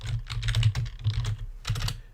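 Keys clatter on a computer keyboard in quick irregular clusters of close, crisp taps with short pauses between bursts, no voices.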